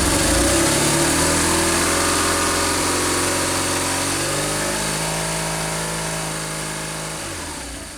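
A BMW R1100 motorcycle engine, fitted with upgraded fuel pump and injectors and freshly balanced, holds steady at about 3,000 rpm with a loud, even drone. It eases down slightly toward the end.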